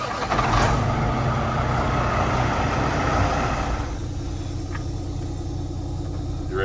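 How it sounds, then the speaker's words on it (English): A Peterbilt 389 truck engine runs at a steady, loud, close rumble throughout, with a low broadband roar and a brief higher burst early on, settling into a smoother idle in the final seconds. "We're gonna crank the truck up."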